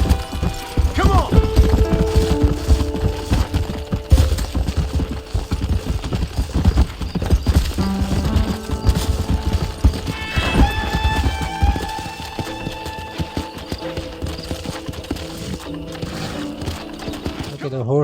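Horse hooves clip-clopping at a gallop in the Red Dead Redemption video game, a steady rhythmic patter mixed with game music and effects while a player talks over it.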